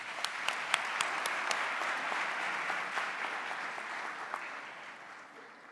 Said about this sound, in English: If you can join me to applaud them, please.